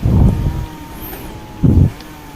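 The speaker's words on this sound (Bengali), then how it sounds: "এই যে ঠেলতেছে ও বেকু উঠে যাচ্ছে উপরের দিকে" An excavator pushes and climbs uphill in a Malaysian oil palm plantation, its low engine rumble swelling in two heavy bursts over a steady idle.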